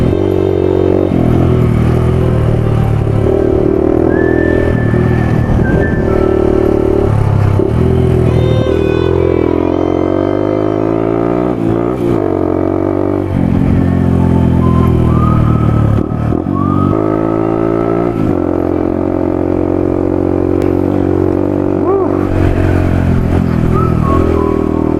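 A Yamaha WR250F dirt bike riding on trails, its loud engine revving up and down continuously with rising and falling pitch and quick gear-change dips, close to the microphone throughout.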